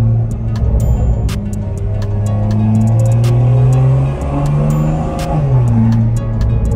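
Toyota Supra A90 with a Magnaflow xmod cat-back exhaust and catless downpipe, driven in sport mode: a loud, continuous engine drone whose pitch climbs and dips as it revs, with no talking.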